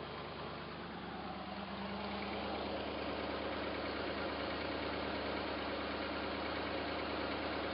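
A stock motor in a Jeep J7 hot rod rock crawler idles steadily and close by, a continuous low rumbling drone with a faint knocking texture running unbroken throughout, no voices over it.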